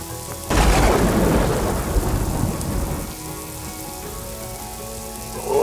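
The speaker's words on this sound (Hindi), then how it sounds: "पिछले 3 घंटे से बड़ी जोरदार बारिश हो रही है" A sudden loud crack of thunder breaks over a heavy downpour, rumbling for a couple of seconds before fading into a steady, dense hiss of rain.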